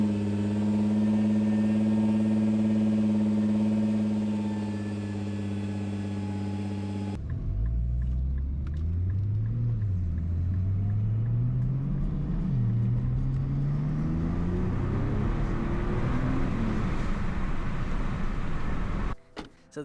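A Nissan GT-R (CBA) gives a steady droning tone, then its engine rumbles loud and close, rising and falling through revs as the car pulls away in wet weather.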